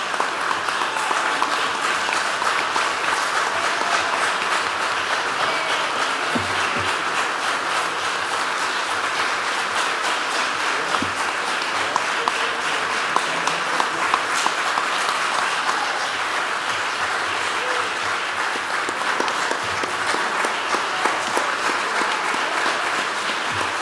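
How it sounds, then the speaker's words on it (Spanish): A long, sustained ovation from an audience after a speech at a talk event: many hands clapping in a thick, even roar that holds steady for the entire stretch without fading. "Muy bien ganada esa ovación"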